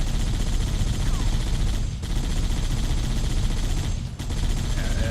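A mounted gun turret firing in Halo: The Master Chief Collection. It sounds as a loud, continuous dense barrage with two brief breaks, filling the whole stretch.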